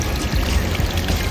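Water pours steadily from a public drinking fountain in Switzerland in a continuous splashing stream, close by and moderately loud, with no voices.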